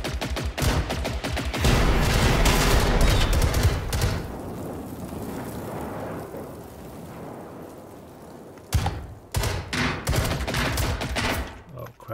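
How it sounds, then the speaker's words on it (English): Enemy gunfire in the video game Generation Zero: loud sustained bursts of automatic shooting, a lull of rumbling noise, then more sharp rapid shots close by. "Oh crap, he's shooting."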